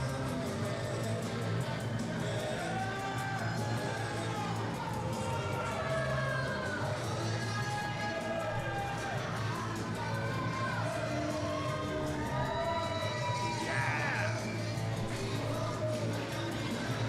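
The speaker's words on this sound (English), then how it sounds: "The crowd here in Corona, California are in shock." Live pro wrestling crowd in Corona, California during a lumberjack match, a steady dense roar of many voices with scattered shouts and yells running the whole time, loud and continuous without a break.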